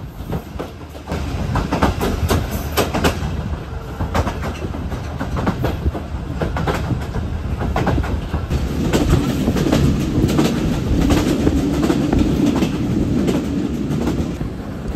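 The Mongla Commuter local train runs on its rails with a steady, continuous clickety-clack of wheels over the track joints and a constant rumble throughout. No voices are heard.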